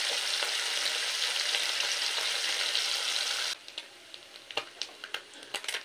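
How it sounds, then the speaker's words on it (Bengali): Piali fish frying in hot oil in a kadai, a loud steady sizzle for about three and a half seconds that then drops to a quieter crackle with scattered pops. "তো এই মাছগুলোকেও একই রকমভাবে ভেজে নেব"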